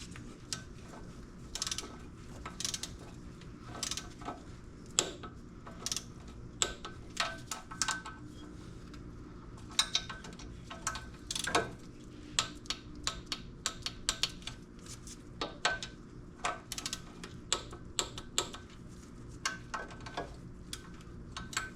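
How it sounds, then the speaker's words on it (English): Bolts on a Jeep Cherokee XJ engine are run in and torqued, with repeated quick ratcheting clicks in short bursts, close by, and faint metallic handling sounds between them. "Then these are going to get torqued to 17 foot-pounds."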